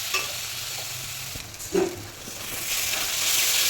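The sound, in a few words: soybean chunks being stir-fried in spice masala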